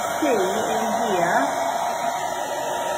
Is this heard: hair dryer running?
yes